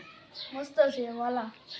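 A kitten gives a drawn-out meow, rising then falling, close and clear against a quiet background.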